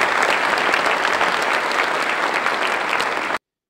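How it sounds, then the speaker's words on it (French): Steady, dense applause from an audience at a community gathering, loud and continuous for about three seconds before cutting off abruptly. "Je voudrais donc qu'on applaudisse très fort Madame Jinsia Akbarali."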